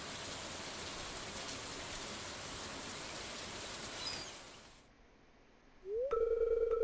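Steady rain falls in the Stardew Valley video game, a constant hiss that fades out, followed by a short bright chime.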